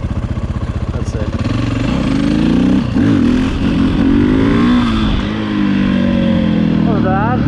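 A 2011 KTM 530 EXC motorcycle engine revs hard and rises and falls through the gears during a wheelie, loud and close throughout, with a rider speaking over it.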